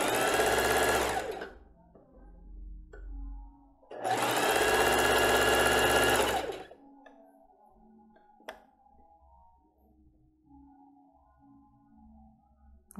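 A sewing machine stitching fabric for a child's underpants runs in two loud, steady bursts of a second or two each, with quieter handling clicks and rustles in the pauses between.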